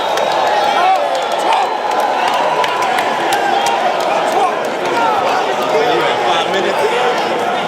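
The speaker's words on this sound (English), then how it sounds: "Crowd reaction" Crowd at a King of the Hotbox rap battle event roars and cheers steadily throughout, a dense, loud wash of voices with scattered whoops and claps.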